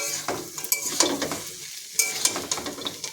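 Chow mein with peanuts and soy sauce being stirred in a pan, with repeated scraping and clinking strokes over a soft sizzle, close and moderately loud, no talking.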